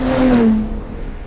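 A 2024 Ford Raptor pickup truck launching at full throttle on a 0 to 60 run, a loud close engine roar with rising pitch that quickly fades away.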